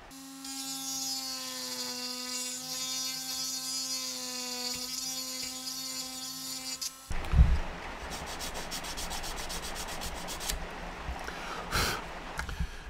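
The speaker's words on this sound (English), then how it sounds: "Just that little bit of sanding has enabled that rear fuselage to close up." After a steady sustained tone, someone sands the plastic rear fuselage of a 1/32 Border Models Avro Lancaster kit, producing close, rapid rasping strokes that run for several seconds with a few louder scrapes.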